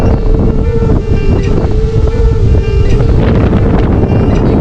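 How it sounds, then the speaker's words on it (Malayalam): Strong wind buffets the microphone at a scenic viewpoint in Kerala, a loud continuous roar with steady low rumble throughout and no clear speech. "പക്ഷെ എന്നാലും കാറ്റുണ്ട്"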